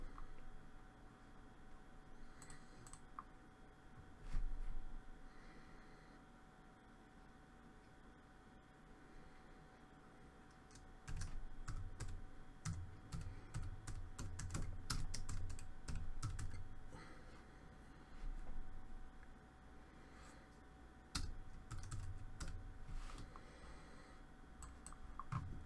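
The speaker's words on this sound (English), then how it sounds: "So I'm gonna type here text." Quiet keystrokes on a computer keyboard, irregular clusters of light clicks with pauses between bursts, heard close over a low steady background hum.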